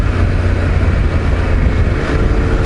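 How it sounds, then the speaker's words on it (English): Yamaha T700 motorcycle engine that isn't revving out properly, a loud steady engine drone with no clear rise in pitch, running throughout with no talk. "I've just noticed the T700 isn't revving out like it should."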